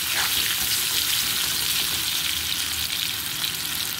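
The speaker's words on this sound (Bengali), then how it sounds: "সামান্য নুন আর হলুদ দিয়ে একটু লাল লাল করে আলুগুলো ভেজে নেব" Potato pieces fry in hot oil with salt and turmeric, giving a steady, close, hissing sizzle throughout with no pauses and no talking.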